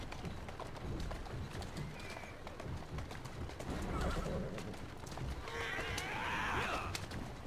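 A carriage horse in the Assassin's Creed Syndicate video game clops along steadily, then lets out a loud whinny near the end over busy street ambience.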